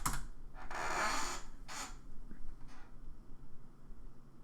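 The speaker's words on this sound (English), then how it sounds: "I'm just typing undead." Soft bursts of keyboard typing, a few quick clusters of key clicks followed by quieter pauses, close by with a low background hiss.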